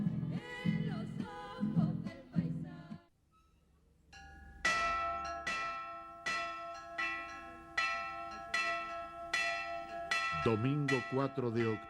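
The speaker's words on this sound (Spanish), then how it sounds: "Muy temprano en la mañana, las campanas del Rosario llaman al inicio de las celebraciones." Chapel bells ring early in the morning to open Rosary celebrations in the desert, a steady series of clear, resonant strikes with long ringing tails, loud and close, preceded by a few seconds of other sound and a near-silent pause.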